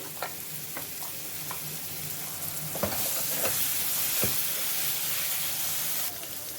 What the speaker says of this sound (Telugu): మసాలా వేసిన తర్వాత మంచిగా కలుపుకోవాలి వేగనిద్దాము